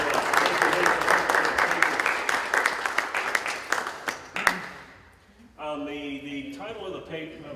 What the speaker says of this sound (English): give Joe a little round of applause